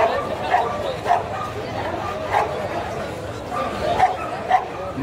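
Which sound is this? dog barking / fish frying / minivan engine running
dog barking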